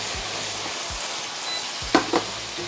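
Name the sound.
MSG browning on ingredients in frying pan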